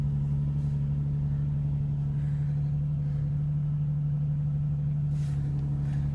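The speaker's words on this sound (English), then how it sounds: "Very nice sounding exhaust." A 2013 Nissan 370Z idles with a steady low exhaust drone, even and continuous, heard close and alone without talk.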